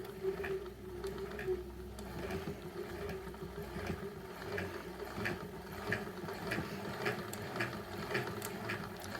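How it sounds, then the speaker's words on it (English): A stiff, long-unused hand crank grinds and ratchets in a steady rhythm of repeated clicks over a continuous low mechanical drone, close and fairly loud, with no talk. "So that grinding noise is actually the crank."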